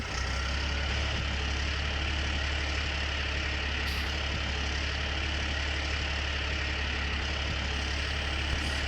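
A tractor engine idles in Farming Simulator 19, a steady, loud low rumble that holds evenly throughout without talk.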